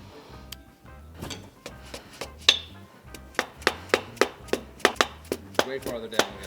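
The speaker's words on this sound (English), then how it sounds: "this might take a tap of a hammer" Sharp metallic hammer taps on parts in a Toyota 1UZ-FE VVT-i engine block during a rebuild land in an irregular series, then quicken into a steady rhythm of about a dozen close, ringing strikes.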